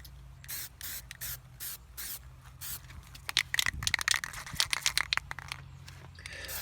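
Aerosol spray paint hisses onto an alloy wheel in a series of short, close bursts, with crinkly, scraping handling noises in the middle stretch.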